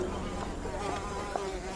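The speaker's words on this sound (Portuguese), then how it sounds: "Mas nesse prato de frango aqui tem uma mosca." A housefly buzzing effect for a radio drama, set around a restaurant chicken dish, hums continuously and close, wavering slightly in pitch with no voices over it.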